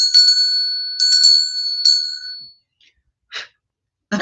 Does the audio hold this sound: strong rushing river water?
no